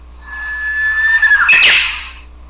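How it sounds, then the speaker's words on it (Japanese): Japanese bush warbler song played from a smart speaker: a long, clear whistled note rising into a quick, bright trill and flourish, loud and close, lasting about two seconds. "ウグイスの鳴き声です。"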